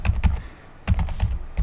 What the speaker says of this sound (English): we can do that by typing Microsoft here